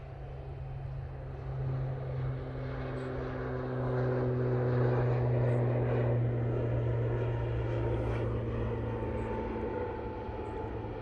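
An ATR turboprop makes its takeoff roll at Manchester Airport in low visibility, a steady propeller drone with a low tonal hum that swells gradually and stays moderately distant, with no voices.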